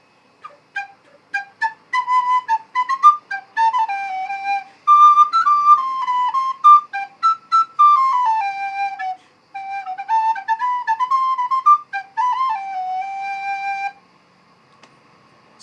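A plastic recorder plays a bright, breathy melody of short tongued notes and runs, alone and fairly close, before falling silent near the end.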